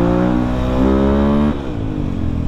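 A bored-up 200cc Yamaha Vixion built as a supermoto revs close by, its engine note rising in pitch, holding, then dropping sharply as the throttle closes, loud and on its own.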